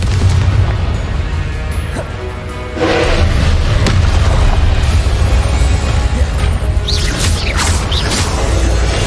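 Explosive Confringo spell blasts in the Hogwarts Legacy video game, heavy booming bursts with loud low rumble, several impacts in a row over constant game background.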